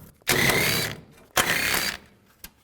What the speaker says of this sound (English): Take this 10mm bolt out here and one on the other side as well